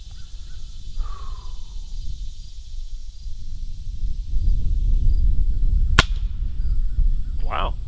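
A Crosman Fire air rifle with a modified trigger fires a pellet, one sharp loud crack near the six-second mark, over steady low background rumble and a high constant hiss, with faint bird-like chirps earlier.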